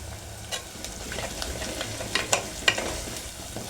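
Ivy gourd pieces and turmeric frying in a pan while being stirred, a soft sizzle under repeated scraping and clinking of a spoon, some strokes sharper near the end.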